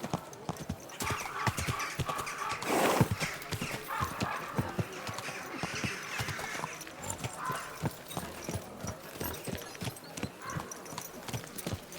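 Steady clip-clop of horse hooves in a rhythmic gait in the video game Kingdom Come: Deliverance II, with a whinny cutting through early on and faint talk in the background.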